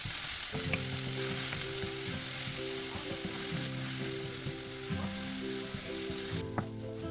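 Ground onion and green chili, just added to hot oil with half a spoon of cumin, fry with a steady loud sizzle, and a spoon stirs and scrapes the pan with a few clinks. Nobody speaks.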